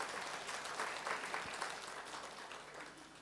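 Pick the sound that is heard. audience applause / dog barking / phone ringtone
audience applause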